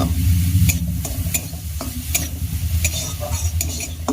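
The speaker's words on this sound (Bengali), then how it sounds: "এখন আমি এই ঘিয়ের মধ্যে গাজরটাকে 1 মিনিট মতো ভেজে নেব।" Grated carrot fries in ghee and is stirred, with loud scraping strokes of a spoon against the pan repeating over a soft sizzle, close and busy with no talking.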